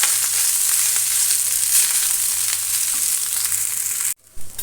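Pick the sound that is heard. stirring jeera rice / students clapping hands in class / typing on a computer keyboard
stirring jeera rice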